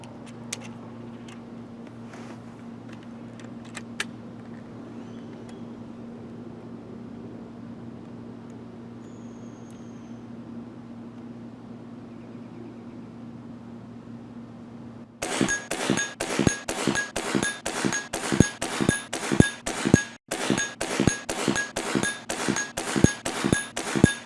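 Ten shots from a Beeman 1358 bullpup air pistol at a target, sharp repeated cracks and clinks in quick succession after a long quiet stretch of low hum.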